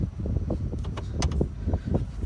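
A Ford F150 pickup backing in at night, a steady low engine and road rumble close by with faint intermittent ticks and rattles and no talk.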